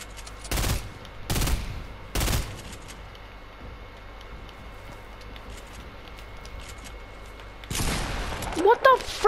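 Sniper rifle no-scope shots in a shooter video game: three sharp, loud gunshots in quick succession, then a quieter stretch before a louder burst of action sounds near the end.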